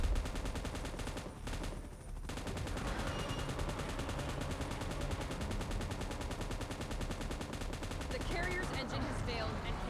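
Sustained gunfire in PUBG Mobile's Titan mode, a continuous loud barrage of automatic shots mixed with battle noise for about ten seconds, with a voice speaking over part of it.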